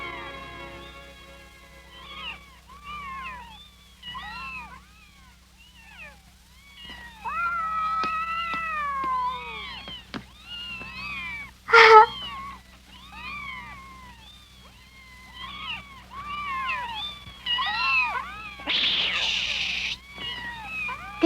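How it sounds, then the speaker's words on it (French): Kittens meow repeatedly, a run of high, thin cries that overlap and rise and fall over the whole stretch, fairly near, ending in a brief hissy burst. "Des chatons."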